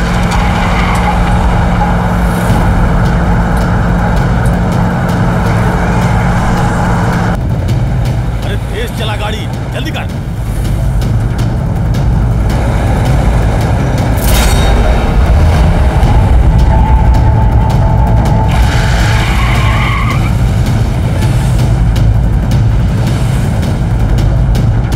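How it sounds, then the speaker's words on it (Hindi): A car is driven fast with tyres skidding as a movie sound effect, loud engine roar and tyre squeal rising and falling over about twenty-five seconds, with voices speaking over it. "ए गाड़ी तेज भगाओ"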